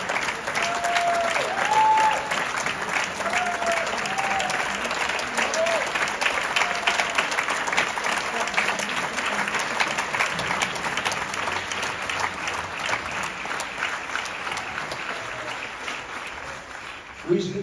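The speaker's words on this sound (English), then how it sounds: "Showing that Swiss applause" A large audience at the Zurich green carpet event applauds continuously and loudly, the dense clapping holding steady with faint cheers and whistles before tapering slightly at the end.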